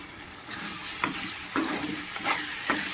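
Frying masala for Andhra-style fish curry stirred in a pan, a constant close sizzle broken by several distinct scraping strokes of the spoon across the pan bottom, with no voices.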